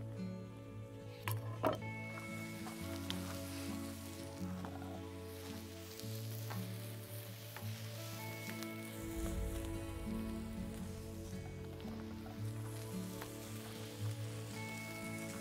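Courgettes laid unoiled on a seasoned grill plate sizzle in a steady, close, crackling hiss, and a few sharp knocks sound early on over a low hum.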